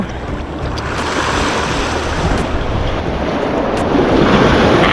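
Ocean surf at Clearwater Beach, Florida, breaking and washing continuously in a loud, close roar, with wind buffeting the microphone throughout.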